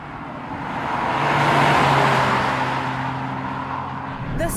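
A Toyota GR Corolla with a three-cylinder engine drives past loudly, its broadband road and engine roar swelling to a peak and fading, with a rising engine tone throughout.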